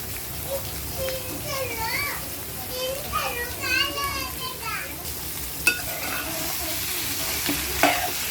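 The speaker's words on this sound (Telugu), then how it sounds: "చికెన్ ఇలా తిప్పుకోవాలి." Chicken pieces are stirred in a pan with sizzling ginger-garlic paste, a bright crackle with scraping strokes while a person talks over the cooking throughout.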